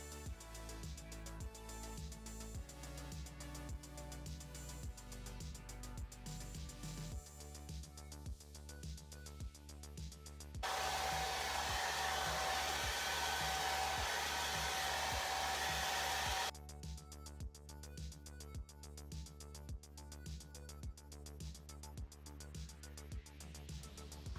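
A hair dryer blows hair dry in a steady, loud whoosh lasting several seconds, close by, with music playing underneath before and after.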